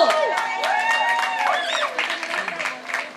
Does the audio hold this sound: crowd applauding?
yes